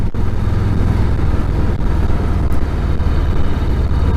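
A 2018 Harley-Davidson FXBB motorcycle with a Milwaukee 8 engine rides along with a loud, constant engine drone and road rumble that holds steady throughout.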